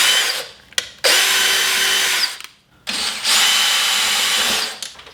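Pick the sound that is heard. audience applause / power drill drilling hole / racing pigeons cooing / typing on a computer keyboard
power drill drilling hole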